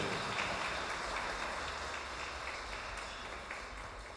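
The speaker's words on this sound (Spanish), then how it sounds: "Aplauso fuerte para la pareja, marido y mujer para siempre." Wedding guests at a church ceremony in Ameyaltepec applaud the newly married couple, a faint, distant, steady wash of many hands clapping that carries on without a break for several seconds.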